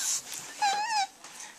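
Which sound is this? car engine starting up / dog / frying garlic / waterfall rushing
dog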